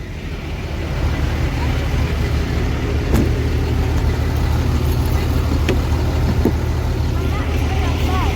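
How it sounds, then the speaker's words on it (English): A hotshot pickup truck that has been hauling a 20,000-pound load sits with its engine left running, giving a steady low idle rumble throughout, with a few faint clicks and light background noise over it. "I can leave the truck running."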